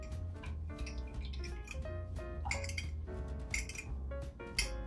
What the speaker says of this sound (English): just mix the coffee and the gelatin concoction